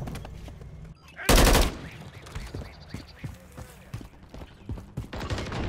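Call of Duty battlefield gunfire: one loud, close burst of shots, then scattered lighter firing and mechanical clatter beneath game voices calling out orders.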